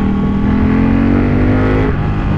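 Ducati Panigale 1199R motorcycle engine running loud and close, a continuous throaty roar with a steady, rich drone and a slight shift in pitch near the end, with no talking over it.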